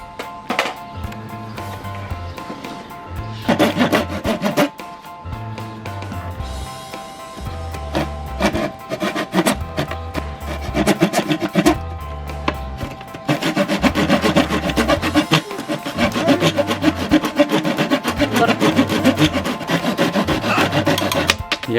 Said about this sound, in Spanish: Encuentro la sierra.